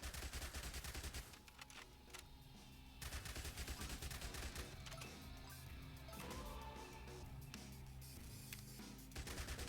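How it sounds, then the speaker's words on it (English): SMG fire in the game Zombie Survivors: rapid, continuous automatic gunfire rattling almost nonstop, dense and fairly loud over a busy game background. "And then we get an SMG."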